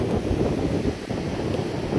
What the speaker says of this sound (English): the ocean is incredibly rough and probably unsafe